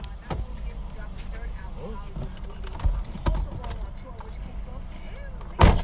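Interior of a moving car, with steady low road rumble and engine drone throughout, occasional thumps and a louder knock near the end; a voice speaks over it.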